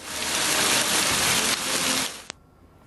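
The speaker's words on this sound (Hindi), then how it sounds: "पंजाब के कई इलाकों में वक्फे से बारिश का सिलसिला जारी है" Steady heavy rain falling in Punjab, a dense continuous hiss that stays loud and uniform for over two seconds before cutting off sharply, with no voices.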